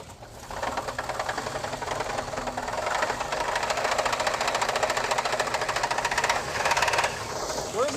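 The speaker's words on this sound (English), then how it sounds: "about 3 rods clanking themselves to death" A Dodge Duster engine with worn connecting rods knocks and clanks steadily as it is revved, a dense rapid metallic rattle over a loud engine roar that rises slightly toward the end, close up and with no talk.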